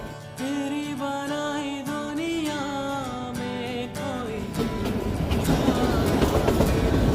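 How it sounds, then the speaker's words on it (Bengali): A toy train runs slowly through mountain country on the Kinnaur Kailash route, its steady rolling rumble and rhythmic clatter continuous and close, growing louder and rougher toward the end, with no talk. "এই মুহূর্তে আমাদের টয় ট্রেন ধীরে ধীরে এগোচ্ছে তার গন্তব্যে"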